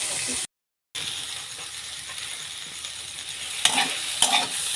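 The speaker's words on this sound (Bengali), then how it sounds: "হালকা করে নাড়িয়ে নিচ্ছি।" Vegetables fry and are stirred in a pan, giving a steady close sizzle with light scraping and a few sharp clinks of the spoon. A brief silent gap comes near the start.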